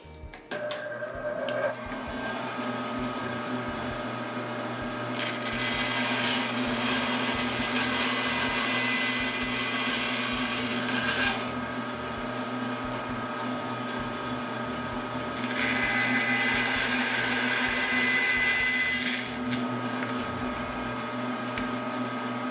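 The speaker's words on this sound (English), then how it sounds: "Let's go over to the bandsaw and we'll cut the notch." A bandsaw cuts a notch in a wooden slide whistle, its motor humming steadily while two louder stretches of blade biting through wood rise and fall, close and with no talk.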